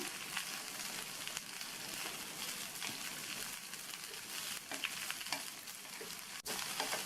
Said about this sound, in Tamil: மீடியம் ஃப்ளேமில் வச்சு ஒரு 2 நிமிஷத்துக்கு இந்த எண்ணெயிலேயே இந்த அவரைக்காயை வதக்கி விட்டுக்கணும்